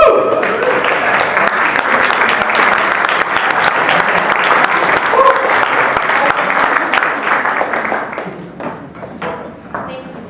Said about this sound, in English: Give a massive round of applause for Sylvia Gruber.